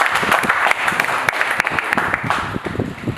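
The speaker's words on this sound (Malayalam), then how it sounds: "വലിയ കൈയടി." Big applause from a wedding-eve gathering, a dense burst of many hands clapping close by, steady and lively throughout before tapering slightly at the end.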